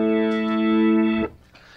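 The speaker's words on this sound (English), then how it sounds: "I have a Contact 5 set up with a B3 emulator, and it sounds like this." Hammond B3 organ emulation running as a software instrument in Kontakt 5, playing a loud sustained chord with rich harmonics and a slight swirling modulation, cut off abruptly after about a second and a quarter, with no talk.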